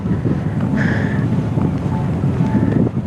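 Strong gusty wind buffets the microphone at a campsite with parked rigs during a day of crazy weather, a continuous loud low roar with no talk.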